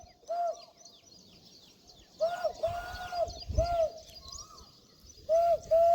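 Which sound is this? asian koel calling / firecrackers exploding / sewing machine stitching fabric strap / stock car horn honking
asian koel calling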